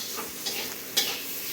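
Okra curry with dried mango sizzling as it fries in a pan, a steady hiss of hot oil with a couple of soft scraping stirs and a spoon tap, close and alone.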